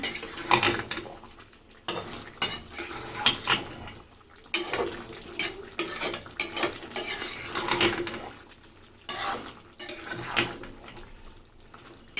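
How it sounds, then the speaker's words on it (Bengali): A spoon stirs onion-free mixed vegetable labra in a pan in a home kitchen in Dhaka. The scraping and clinking comes in irregular bursts, fairly close and moderately quiet. "এবার এটা মিশিয়ে দিব। মিশিয়ে দিলে সব জায়গায় যাবে।"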